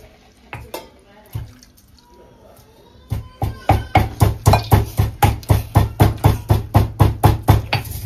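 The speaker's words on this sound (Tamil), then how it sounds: "கொஞ்சம் கலர் எடுத்து ஜொக்கில் எடுத்து அதில் வந்து கொஞ்சம் சுடுதண்ணி சேர்த்து" Hot water is added to a sugar and food colour mixture in a jug while making a sweet at home; after a few scattered taps and clinks, a fast, regular run of sharp knocks and splashes follows, likely stirring or mixing.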